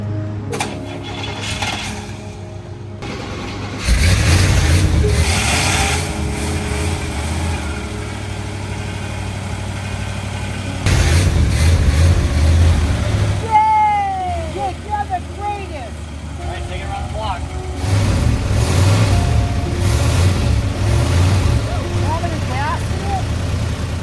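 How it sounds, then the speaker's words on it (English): A big old restored Cadillac engine idles and revs in loud surges as the car pulls out to the street, with people talking over and between the revs. "the big Caddy rolls out to the street under its own power"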